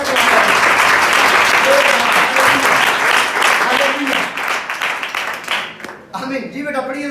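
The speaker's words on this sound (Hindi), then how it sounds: "एक बार फिर तालियां बजा दो जरा" Congregation applauding during a church sermon, a dense steady wash of clapping that runs loud for about six seconds, then thins out as a voice starts speaking over the last moments.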